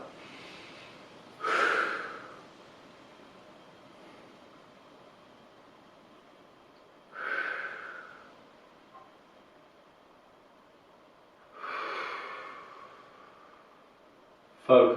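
Heavy, audible breaths come at a slow, steady pace, about four long breaths spread evenly, each rising and fading. A person is stretching into a bridge position in a quiet room, with no talk.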